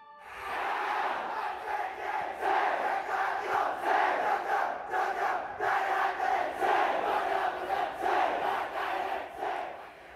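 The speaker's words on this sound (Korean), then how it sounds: "우렁찬 함성이 학교를 가득 메우고" A large crowd of high school students shouts a loud, sustained cheer in unison at their school, the chant pulsing rhythmically for several seconds without pause.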